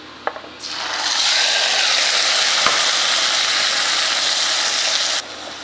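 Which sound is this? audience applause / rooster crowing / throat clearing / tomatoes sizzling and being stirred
tomatoes sizzling and being stirred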